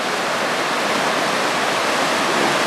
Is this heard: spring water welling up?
yes